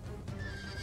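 A cavalry horse in the medieval battle game Total War Medieval Kingdoms 1212 AD lets out a single close, ringing whinny over a dense background of battle rumble.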